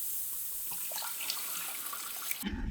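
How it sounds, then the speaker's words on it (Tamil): Water is poured into a pan of masala for chana masala gravy, running and splashing steadily, a soft continuous pour close by, ending with a brief clunk at the end. "தண்ணி சேர்த்துக்கிறோம்"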